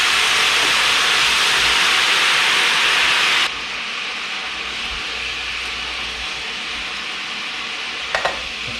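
Teal ducks frying in a pan of gravy give a loud, steady close-up sizzle that drops to a softer bubbling hiss partway through, with a brief clink near the end.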